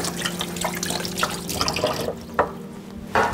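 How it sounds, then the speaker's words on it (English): Running tap water pours steadily into a kitchen sink while hands are washed, with a continuous splashing flow close by and a couple of sharper splashes and knocks near the end. "Can I just wash my hands?"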